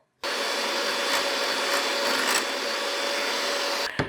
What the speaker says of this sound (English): So first thing I'm going to do is beat the egg yolks until they are light and